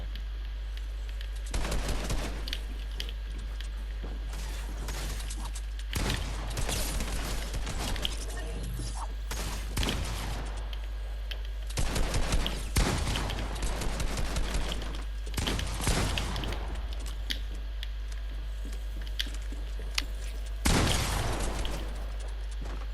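Rapid automatic gunfire bursts in a Fortnite boxfight match, loud, dense volleys recurring in clusters, with a player talking and laughing over the shooting.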